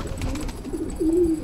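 Pigeons coo close by in a loft, a short throaty call followed by a longer rolling coo over a low background rumble.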